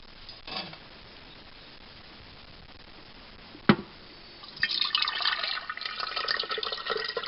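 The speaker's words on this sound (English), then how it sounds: "And I'll pour the ingredients in through the top." Ice cream ingredients poured through the top of a Cuisinart ice cream maker, a liquid splash and trickle that starts after a couple of faint knocks and runs steadily to the end.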